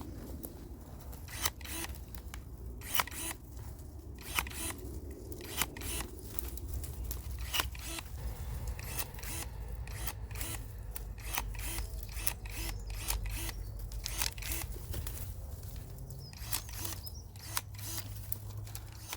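Electric pruning shears snap through garden branches in quick repeated sharp clicks, with an irregular rhythm of cuts over a faint outdoor background.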